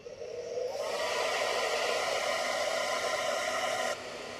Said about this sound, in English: I am going to get out my blow dryer, and I'm going to blow dry that image just a bit so that it can set.